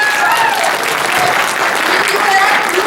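Loud, close crowd applause at a Detroit China Day community event greets the Chinese Consul General from Chicago, a dense unbroken roar of clapping with cheering voices mixed in.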